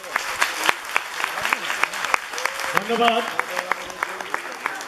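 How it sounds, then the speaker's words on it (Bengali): Scattered, sparse audience clapping at a Puja committee stage performance of the Alibaba dance-drama, individual claps rising and falling over a few seconds while a voice briefly speaks. "আমি বলবো আপনারা একটু জোরে ওদের জন্য হাততালি দিন।"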